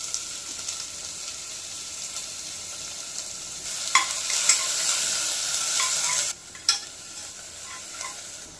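Chopped onions and green chilies sautéing in a pan, with a steady sizzle and occasional stirring scrapes, cooked close up with no voices.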